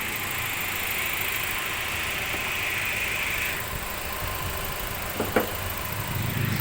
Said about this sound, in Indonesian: Mesin masih bersih, masih halus suaranya.